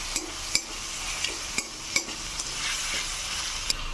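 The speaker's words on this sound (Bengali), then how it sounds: "টমেটো কুচি, আদা রসুনের পেস্ট, লঙ্কা বাটা দিয়ে এবার মশলাটাকে আমি ভালো করে কষিয়ে নেব" Masala of onion paste, chopped tomato, ginger-garlic paste and chilli paste fries in a pan for fish kalia, a steady close sizzle broken by sharp clicks as the spoon knocks the pan at irregular intervals.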